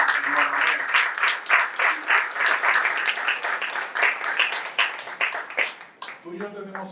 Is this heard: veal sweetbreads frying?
no